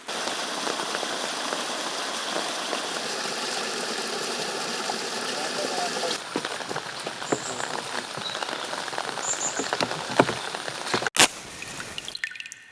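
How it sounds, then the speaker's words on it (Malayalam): Water flowing out of a surangam, a hand-dug horizontal water tunnel in Kerala, giving a steady close rushing wash with dripping and splashing, later joined by intermittent clatter. "ആ വെള്ളത്തിൻ്റെ ഒരു സൗണ്ട് ഉണ്ടല്ലോ, അത് കേൾക്കുമ്പോൾ നമ്മൾക്കൊരു കിട്ടുന്ന സുഖം"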